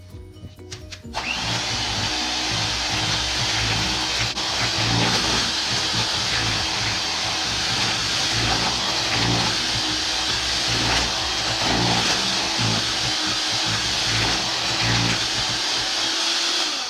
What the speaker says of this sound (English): Enjoy using a hand mixer